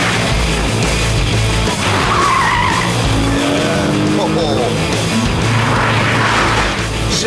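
A Porsche Cayman S slides through a corner under power, its engine roaring loudly while the tyres squeal and skid over several seconds, with someone talking over the top.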